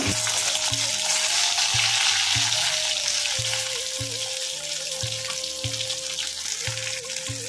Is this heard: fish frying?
yes